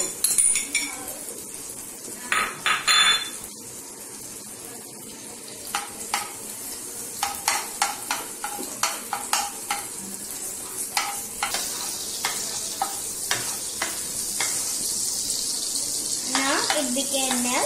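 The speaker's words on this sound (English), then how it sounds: "Put it on low flame until it becomes melt." Butter melting in a pan over a low flame for caramel, giving a soft steady sizzle with scattered clinks and scrapes of a utensil stirring against the pan, close and moderately loud, no talking.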